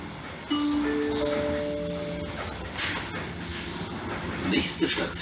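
A DB class 143 electric locomotive from DB Regio runs along the RE4 line with a steady rolling rumble. A few sustained tonal whines and rail noise sit over it, and faint voices are heard in the background.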